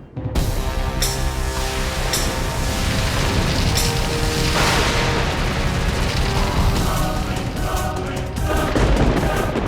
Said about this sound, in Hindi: भयंकर परियों, आग के गोलों से आक्रमण करो।